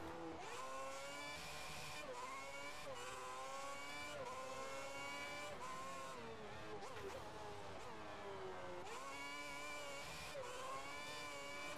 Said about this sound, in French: Le moteur, il est à fond, oui, il est à fond.